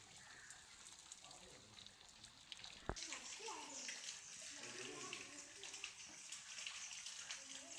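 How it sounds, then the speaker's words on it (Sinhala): Spring water trickles down from the mountains near a long tunnel at Hatton, Sri Lanka, as a faint, steady hissing rush with a sharp click partway through and voices murmuring in the background. "මේ කඳු අස්සෙන් උල්පත් වගේ වතුර වැටෙනවා"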